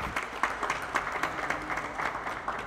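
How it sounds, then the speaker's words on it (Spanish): An audience at a World Psoriasis Day event applauds guests with brisk, close clapping whose sharp individual claps stand out in a short, even burst. "Un aplauso a todos ellos."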